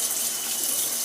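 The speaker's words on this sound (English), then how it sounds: "I need to wash my hands." A kitchen tap runs steadily for hand washing, a loud continuous hiss of water with no voices over it.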